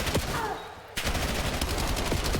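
Rapid automatic gunfire rattles through a Call of Duty esports match between G2 Minnesota and FaZe, loud dense bursts broken by a short pause and then a heavy crack as the fire resumes, with a caster's voice faintly beneath.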